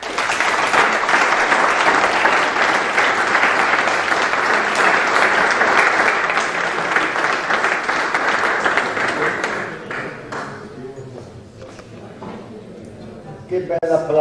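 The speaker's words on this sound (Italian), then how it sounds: "Che bel applauso ho sentito." A large audience applauds loudly and steadily for about ten seconds at a tribute gathering, then the clapping thins out and talk takes over.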